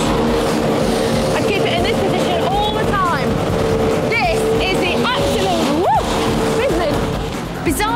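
A 110-brake-horsepower go-kart is driven hard around a track, its engine droning and whining steadily beneath continuous narration.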